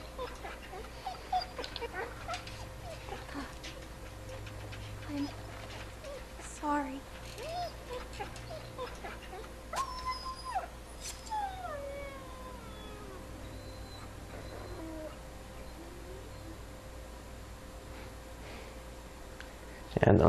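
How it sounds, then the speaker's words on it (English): A dog in The Walking Dead video game whimpers and lets out thin, wavering whines and howls over a quiet ambient background, with scattered soft noises throughout. "I know he's attacked me, but he's just a dog and we're really hungry."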